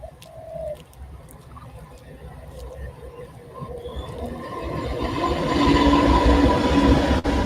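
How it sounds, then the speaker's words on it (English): A freight train rumbles in the background, its low roar building steadily louder over several seconds while pigeons or doves coo nearby. "The freight train running through the background."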